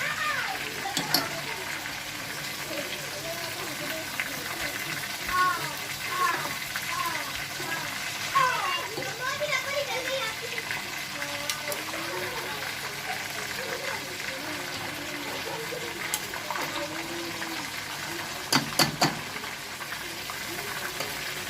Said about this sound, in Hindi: तो मैं अंदर के पेट में ना गरम तेल डाल दूँ तो अंदर भी पक जाएगा।